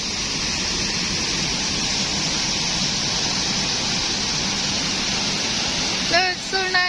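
Tibumana waterfall in Bali gives off a steady, dense roar of falling water that fills the whole scene, and a voice speaks briefly just at the end.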